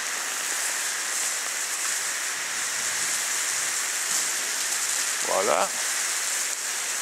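Water gushing from a hose onto an outdoor ice rink makes a steady, even hiss throughout, with a short spoken word near the end.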